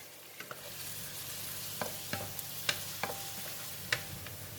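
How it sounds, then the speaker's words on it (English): Garlic fries in hot oil for a ground beef spaghetti sauce, a soft, steady sizzle broken by scattered clicks and scrapes of stirring, heard close and alone. "When the oil is hot, I'm putting all the garlic in."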